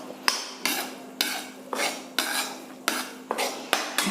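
A spatula scrapes and stirs gram flour roasting in ghee in a pan over a low gas flame, giving about eight rhythmic strokes that are close and distinct, with a faint steady hum beneath.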